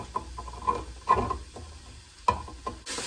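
Hamburger meat cooks in the same pot later used for chili, a soft sizzle under scattered stirring scrapes and clinks, close and moderately loud.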